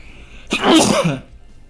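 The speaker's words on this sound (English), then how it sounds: "Pardon my sneeze." A single sharp sneeze bursts out close to the mic, then quiet.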